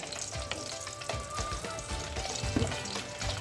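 Whole green chillies, slit lightly, fry in hot oil in a karahi, giving a steady dense sizzle with small popping crackles, close and loud, with no talking.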